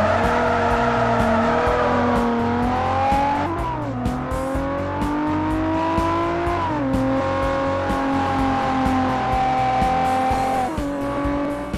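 A souped-up 450-horsepower DeLorean in Forza 4 races around Infineon Raceway, its engine droning loud and close with rising revs, abrupt gear-change dips and tire squeal throughout.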